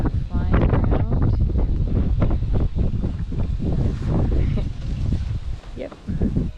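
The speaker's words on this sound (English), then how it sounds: "It's very chilly and windy again today." Strong, chilly outdoor wind buffets the microphone as a steady low roar with gusts, while a person talks over it throughout.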